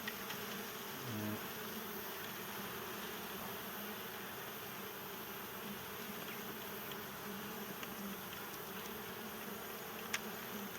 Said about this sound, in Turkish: Çok güzel çalışıyor arılar.